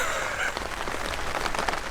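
Steady rain patters on surfaces at a remote, off-grid campsite at night, a dense, close hiss of drops with faint scattered ticks throughout and no voices.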